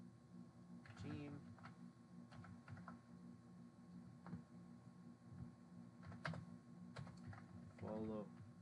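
Keys on a computer keyboard click in scattered, irregular taps over a steady background hum, with a person speaking briefly between the keystrokes.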